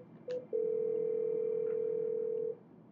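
Cisco IP phone handset gives a short beep, then a steady, loud dial tone held for about two seconds before cutting off, with no voices.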